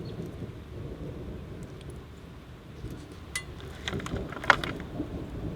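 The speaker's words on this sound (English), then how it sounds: "still a little bit of thunder around" Low, distant thunder rumbles after a storm in rural Australia, a broad muffled roll under steady background noise with a few faint clinks toward the end and no talking.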